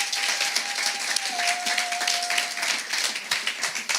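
A church congregation applauding, dense steady clapping from many hands filling the room with a faint sustained tone underneath, loud and continuous throughout.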